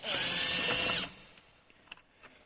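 A power drill backs out cross-head screws on a 2022 Opel Insignia, a loud, close whine for about a second that cuts off, followed by faint handling clicks.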